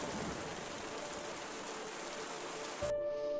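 Steady, dense rainfall hisses evenly on a surface, continuous and fairly loud for about three seconds before cutting off abruptly into a soft tone, a cartoon rain effect for a poor farmer's hut with a leaking roof.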